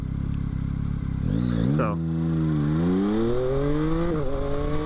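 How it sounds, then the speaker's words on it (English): A 2022 Yamaha XSR900 at half throttle: a loud, close engine roar climbs sharply in pitch, shifts, and pulls again in rising sweeps, with wind rush and a brief spoken word underneath. "like this is half throttle"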